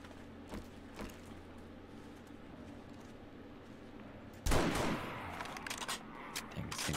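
Faint scattered gunshots pop in 7 Days to Die, a couple of isolated cracks early, then a louder burst of fire and noise around the midpoint followed by a few more shots.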